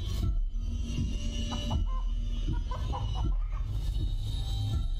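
Chicken clucking inside a video game, several short close clucks scattered over a steady background of game ambience.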